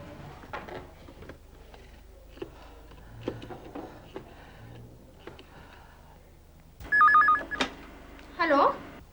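After soft clicks and quiet talk, a telephone rings twice in bright, trilling bursts near the end, close and fairly loud.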